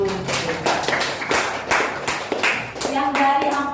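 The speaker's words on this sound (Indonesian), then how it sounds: "Tepuk tangan dulu." Audience clapping at a talk about a bakery business's success, loud and fairly close, with uneven bursts of hand claps and some voices mixed in.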